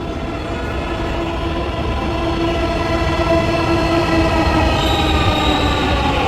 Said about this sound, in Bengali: ট্রেন আইলো, তো মেট্রোতে উঠলাম